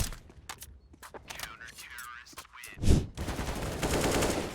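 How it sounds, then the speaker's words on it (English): Gunfire in an esports video game match, heard as a burst of shots followed by sustained firing beneath a commentator's excited talk. "Now as the shot rings through, Wicadia finds 1."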